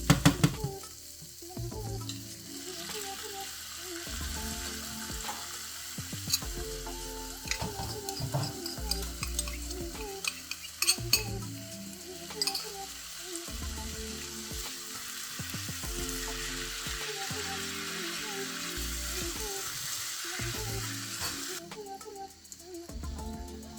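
Pork udon with pasta and sauce stir-frying in a pan, a continuous sizzle with repeated rhythmic scraping and stirring strokes throughout, a tonal background running beneath.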